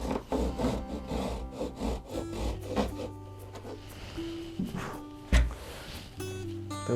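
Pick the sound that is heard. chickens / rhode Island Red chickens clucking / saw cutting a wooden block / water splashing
saw cutting a wooden block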